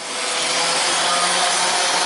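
Steady, rough abrasive hiss from sanding a street luge during an overhaul, continuous and close for the whole stretch after a short ramp up, with no talking.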